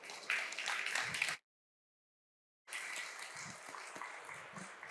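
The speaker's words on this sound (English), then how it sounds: "and warm applause for her." Audience at the Fit 4 Start graduation ceremony at ICT Spring 2022 applauds to welcome a speaker to the floor, dense clapping broken by a full second of dead silence before it picks up again.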